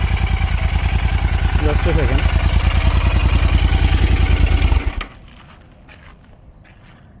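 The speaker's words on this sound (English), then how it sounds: "At idle, they sound just like a stock exhaust." A modified Royal Enfield Interceptor 650 with aftermarket exhaust idles nearby in a steady, even low thump, a person speaks briefly over it, then the engine cuts off abruptly, leaving quiet background.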